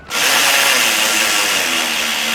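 A power tool drives bolts into a bracket on a supercharged V8 box truck, with a steady, close, loud whirring that starts abruptly and holds for about two seconds.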